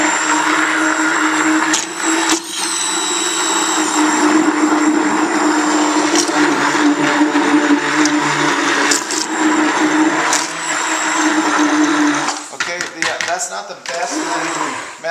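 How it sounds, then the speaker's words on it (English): A small hand blender whirs steadily while stirring a plaster mix for a two-piece mold, a continuous close motor drone with brief dips and a rougher stretch near the end. "I take my little hand blender and I stir it"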